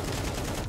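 Rapid AK rifle fire in an aim-training video game, a dense, continuous burst of shots at steady loudness lasting under a second, with no talking.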